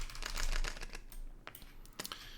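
Soft rapid riffling of a pack of playing cards being shuffled during a tabletop game, a fluttering burst followed by a few sharp taps and clicks, close and quiet.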